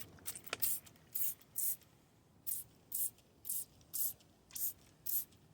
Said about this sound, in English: I'm going to take the spray bottle over here, and they're going to feel that cold